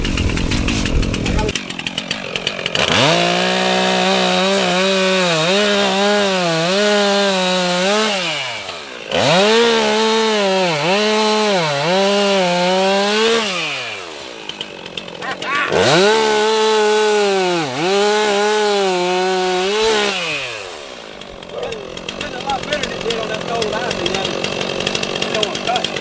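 A ported chainsaw roars loudly as it cuts through wood in three long bursts, its pitch sagging under load and climbing again between cuts, with brief idle gaps.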